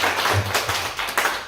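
A church congregation claps loudly during a worship service, the short burst of mixed hand claps rising and falling in uneven waves with a low murmur underneath.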